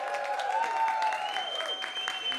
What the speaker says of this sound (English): So big, big, big applause for him.